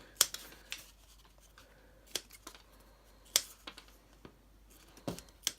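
Scissors cut through a Worbla thermoplastic sheet in sharp, close snips, a handful of crisp strokes spaced unevenly with quiet pauses between them.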